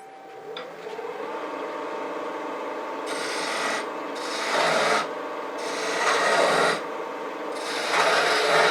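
A lathe tool cutting a V-cut into a turning wooden spindle for a shop stool, with a steady motor hum and repeated bursts of loud, hissing scraping as the tool bites in and pulls away, close and without talk.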